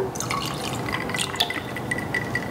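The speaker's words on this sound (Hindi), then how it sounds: "इसमें अब हम थोड़ा पानी डाल" Water poured into a glass of whiskey, a close, steady trickle and drip with a light glassy ring and no talking.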